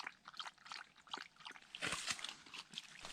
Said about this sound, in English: Is that some good spring water there, Pooch?